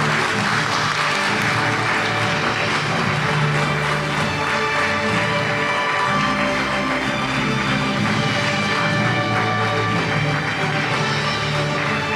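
An audience at a CFO of the Year award ceremony applauds steadily, a loud, sustained wash of clapping that continues without pause throughout.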